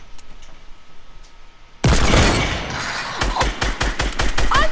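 Gunfire in Fortnite: a loud sustained burst of automatic fire erupts suddenly after quiet, followed by a rapid run of sharp, evenly spaced shots, close and dominant.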